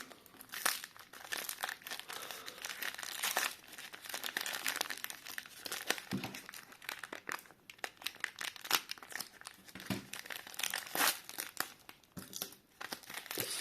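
Continuous crinkling and tearing of paper and tape being pulled apart while unwrapping a taped parcel, close and busy, with uneven rustling bursts throughout.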